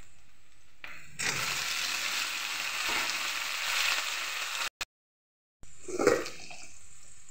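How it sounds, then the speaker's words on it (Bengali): Potatoes and onions frying in hot oil in a wok for a freshwater snail curry, a steady loud sizzle that cuts out briefly, then resumes with a stirring scrape. "এবার আলু ভেজে নেব।"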